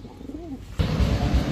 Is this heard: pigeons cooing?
yes